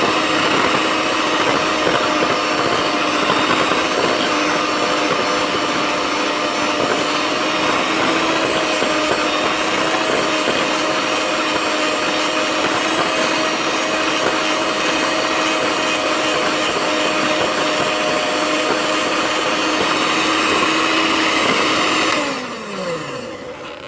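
An electric hand mixer beats sugar with melted-and-chilled desi ghee in a bowl, a loud, steady high-pitched motor whir running continuously up close for over twenty seconds before winding down at the end.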